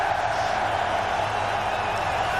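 A stadium crowd at the Santiago Bernabéu in Madrid, a steady dense roar of many voices with a chant-like tonal band running continuously, loud and unbroken throughout.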